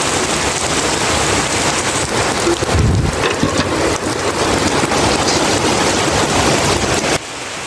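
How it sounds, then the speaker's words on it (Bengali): Heavy rain pours steadily and loudly, a dense continuous hiss of drops drumming on surfaces from start to finish. "অনেক বৃষ্টি নামিয়েছে আজকে"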